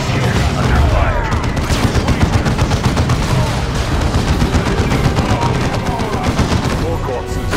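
Gunfire in the Warhammer 40,000: Dawn of War 2 strategy game: rapid, continuous volleys of shots crackling over a low rumble, loud and sustained throughout, with occasional heavier thuds.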